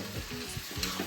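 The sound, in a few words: sautéing poha in a pan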